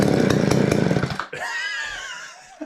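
A Mac 610 chainsaw engine, set to full choke, fires in a rapid string of loud, close pops and then catches briefly with a rising, wavering buzz before it fades out.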